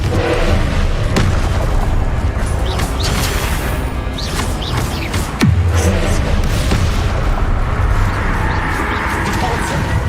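Confringo spell explosions in Hogwarts Legacy burst loudly amid a dense, chaotic battle din of booms, crashes and blasts, with a voice shouting over the fighting.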